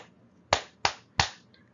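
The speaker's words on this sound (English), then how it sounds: "Clap, clap, clap your hands." Three sharp hand claps ring out in a steady rhythm with short pauses between them, close and clear, keeping time with a children's song, with no voices heard.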